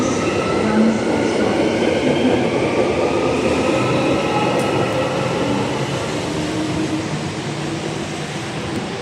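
Train at Cannington Station platform, a steady loud rumble of rail cars running throughout with faint rhythmic wheel noise and a slowly easing level, no talk over it.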